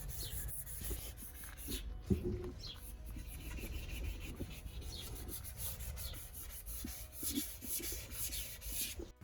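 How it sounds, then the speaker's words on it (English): Wet sanding of a VW T3 van's bodywork with 220 to 320 grit sandpaper and water, a close, quiet, continuous rubbing with repeated back-and-forth strokes and a few light knocks. "using a mix between 220 and 320 grit sandpaper with water"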